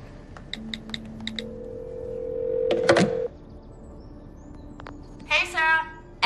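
A telephone dialing to call a friend: a quick run of short beeping tones, then a long steady tone with a clunk, followed later by brief electronic chirps, with no talking over it.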